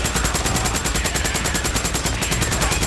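Rapid automatic gunfire in Days Gone while fighting the Sawmill Horde, a fast steady stream of loud, evenly spaced shots filling the whole clip without pause.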